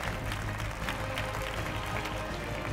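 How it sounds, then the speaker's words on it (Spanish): An audience applauds at the Emerita Lvdica 2017 festival: steady, dense clapping from a crowd that continues without a break from start to end. "Aplaudir"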